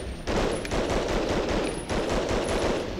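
Gunfire in the Medal of Honor: Underground video game crackles in rapid bursts of automatic shots, loud and close, in several runs with short gaps.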